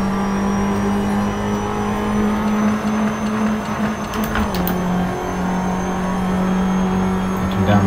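Race car engine in the Assetto Corsa driving game, a steady sustained drone holding one pitch with a small drop in revs midway as the car exits a village onto a straight, loud and continuous with no talk.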